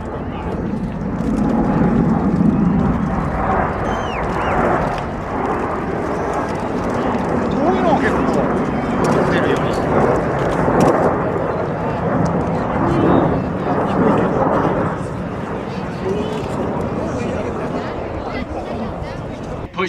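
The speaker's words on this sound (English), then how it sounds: "The Blue Angel Diamond will momentarily be making its approach to the canopy separation that exists between these 4 aircraft" Blue Angels Diamond formation of four jets passing over a 1997 air show at MCAS El Toro, a loud, continuous broadband jet roar swelling and holding steady throughout, with a voice speaking over it.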